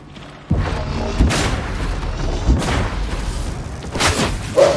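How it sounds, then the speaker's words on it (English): A plasma gun in a Krieger build fires in a video game, giving several heavy, booming shots at uneven intervals over a continuous low rumble. No voices. "the more shots we use, the harder our freaking plasma gun"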